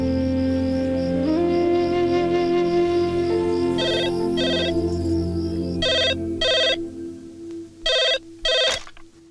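Telephone ringing indoors, a bright electronic ring in several short bursts separated by pauses, heard over a sustained musical background score.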